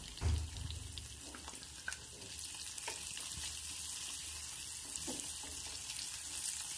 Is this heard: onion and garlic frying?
yes